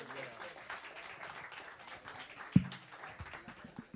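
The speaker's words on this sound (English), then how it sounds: "Warm round of applause for Mr. Fred Kasten." Audience applause at a New Orleans jazz concert: a faint, soft wash of clapping from a crowd, heard under a voice speaking, with one sharper clap standing out.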